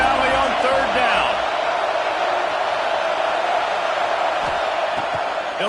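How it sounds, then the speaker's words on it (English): A big college football stadium crowd in Happy Valley roars on third down, a dense, sustained wall of distant cheering and whooping that stays loud across the stretch, with a commentator talking over it. "Here comes the noise from this big crowd in Happy Valley on 3rd down."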